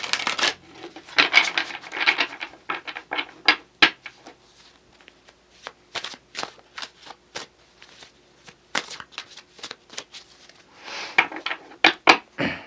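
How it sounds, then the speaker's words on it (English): Chakra Wisdom Tarot cards shuffled by hand, a series of close, crisp riffling and flicking bursts with short pauses between, quiet and alone with no talking. "Let's get 2 more shuffles."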